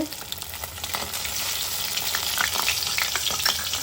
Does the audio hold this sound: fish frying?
yes